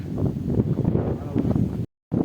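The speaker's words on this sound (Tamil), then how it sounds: "காற்று செம்மையாக இருக்குல்ல" Strong wind buffets the microphone at a hilltop viewpoint in Ooty, producing a low, rumbling roar with uneven gusts that briefly cuts out near the end.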